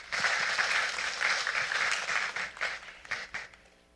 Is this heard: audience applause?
yes